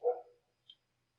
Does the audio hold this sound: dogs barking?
yes